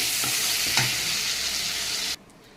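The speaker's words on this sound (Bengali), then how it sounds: "এখন আমি চিংড়ি মাছটাকে নামিয়ে নেবো, একদম হালকা করে ভেজেছি।" Shrimp fry lightly in a pan with a loud, close, continuous sizzle and one brief stirring clatter, cutting off abruptly into near silence at the end.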